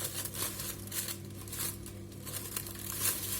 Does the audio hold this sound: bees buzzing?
no